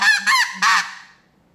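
A RedBone acrylic goose call blown with reeds in place gives three short, loud honks close up, the last trailing off into quiet.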